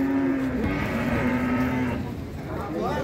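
A red Simmental bull moos with a long, low call, close and loud, amid the background murmur of the Jetis cattle market in Ponorogo.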